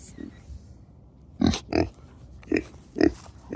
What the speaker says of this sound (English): Good pigs.